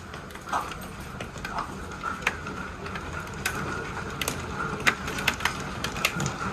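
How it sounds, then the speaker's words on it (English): Hailstones at least quarter-sized fall during a severe thunderstorm in Edwardsville, Illinois, striking hard surfaces as a continuous rattle with frequent sharp, loud individual impacts close by. "We got more hail, folks."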